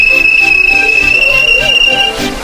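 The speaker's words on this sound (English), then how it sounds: "The guard blew his whistle," A long, steady, shrill whistle blast sounds up close for about two seconds, then cuts off, with faint rumbling and voices in the background.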